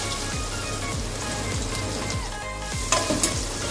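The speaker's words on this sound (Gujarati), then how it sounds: "હવે આ 2 મીડિયમ સાઇઝના કાંદા લીધા છે, એને મેં આવી રીતે કટ કરી લીધા છે, એ હવે નાખી દઈશું અંદર." Two medium chopped onions drop into hot oil for a gathiya curry, setting off a loud, dense, continuous sizzle with light stirring scrapes near the end.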